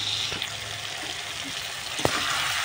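Masala with garlic paste and turmeric frying in oil, a steady broadband sizzle running throughout with a few faint stirring clicks and one sharper knock near the end; no voices.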